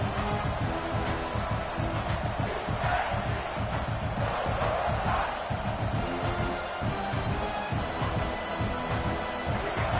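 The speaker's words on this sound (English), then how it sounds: "This crowd, full throat, spreading the eardrums and letting them know it's going to be a long day." A football stadium crowd roars steadily at full voice for the whole stretch, a dense, loud, continuous wall of massed voices with no break or pause.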